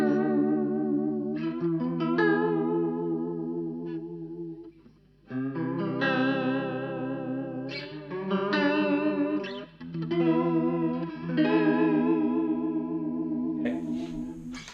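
An electric guitar played through a Valeton Coral Mod chorus and detune pedal rings out in sustained chords and picked notes with a shimmering, wavering modulation, clear and unaccompanied by speech.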